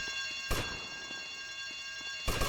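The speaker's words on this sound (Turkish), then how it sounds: "Sana alarma dokunma demedim mi" An alarm set off in GTA Vice City rings as a steady high electronic tone, continuous and fairly loud, with brief bangs near the start and end.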